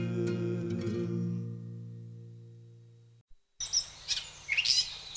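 Birds chirp and tweet in a bright outdoor chorus after a held, fading musical note ends and a brief silence passes; the calls come in irregular bursts at moderate level.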